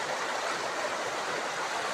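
The Brahmani river flows in a steady, full rushing wash of water, constant and fairly close, with no voices over it.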